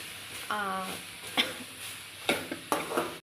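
Okra fried in a pan for a chutney, with soft sizzling under stirring scrapes and clatters of a utensil against the pan, several distinct knocks near the end, and a brief tonal squeak early on.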